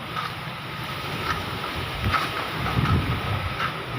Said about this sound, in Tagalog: hangin ang malakas dito mga kaibigan